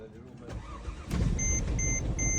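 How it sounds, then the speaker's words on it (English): A car engine cranks briefly and then catches and starts with the help of a VTOMAN X7 portable jump starter, settling into a steady idle nearby while beeps sound from the jumper and a voice talks over it. "after 10th attempt to turn it on the car, it jumps right up"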